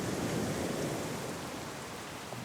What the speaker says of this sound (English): Here in the tropics, when it rains, it's not just nice British drizzle. It's torrential.